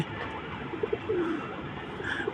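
Soft, low racing pigeon coos sound a few times in short bursts over steady outdoor background noise, moderately close.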